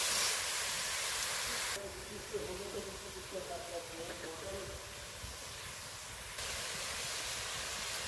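Khesari greens frying with ginger in a pan give off a loud, steady hissing sizzle that drops back while a voice talks over it, then swells again at full strength.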